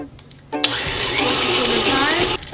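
Electric hand mixer beating lemon thumbprint cookie dough, a steady whirring motor hum that kicks in abruptly, runs evenly for about two seconds close by, then cuts off.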